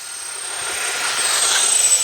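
Twin 40mm electric ducted fans of an E-flite SR-71 Blackbird RC jet spool up to full throttle for takeoff, a steady broadband whoosh with a thin high whine that grows louder over two seconds, no voices.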